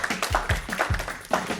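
Scattered clapping from a small studio audience greets contestants on a French general-knowledge quiz show, with irregular hand claps and a few louder bursts in a brief, moderate-level stretch.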